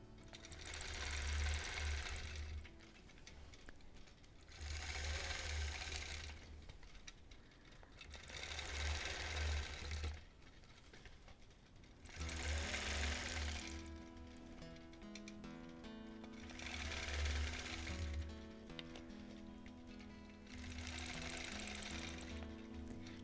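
A quilting sewing machine stitching a Double Wedding Ring topper runs in bursts of rapid mechanical chatter and hum, close up, separated by brief pauses.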